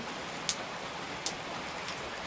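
Rain falls as a steady, moderately quiet hiss, with a few sharper drops or taps standing out briefly over the constant patter.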